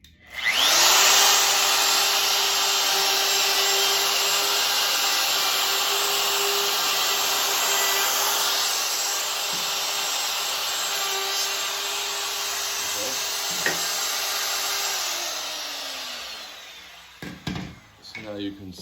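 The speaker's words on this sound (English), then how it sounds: "I'm going to use a router bit to make it round" A router with a roundover bit runs loud and steady with a high whine, easing the edge of a wooden Adirondack chair part for about fifteen seconds before spinning down. A few bumps and handling noises follow at the end.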